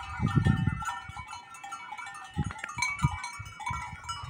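Goats bleat in short bursts against a steady outdoor background in the hot, dry Brazilian sertão at midday, a few loud calls close by with quieter ones scattered around.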